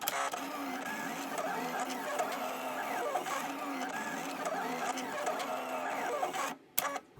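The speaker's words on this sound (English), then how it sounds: "Okay, so the machine just finished cutting" A Silhouette Cameo cutting machine working through thick material, a continuous whirring motor with shifting mechanical chatter and carriage movements, close and steady before cutting out abruptly near the end with a clunk.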